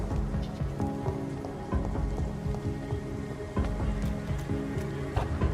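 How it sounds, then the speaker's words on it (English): Steady rain ambience in the video game Vampyr patters on surfaces all around, a soft continuous hiss broken by scattered heavier drips, with no voices. "Here we have a nice rain soundscape"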